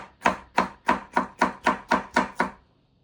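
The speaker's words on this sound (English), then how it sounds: "Nice little cross chop motion." Eight steady, evenly spaced knife chops strike a cutting board while ingredients for a one-tray chicken tikka and rice bake are cross-chopped, each blow crisp and close with a brief decay and no talking.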